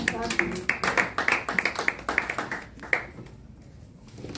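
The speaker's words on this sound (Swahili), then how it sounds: "Pigieni Mungu makofi" A church congregation claps in rhythm, praising God: a quick run of sharp, even claps that fades out after about three seconds, with voices mixed in.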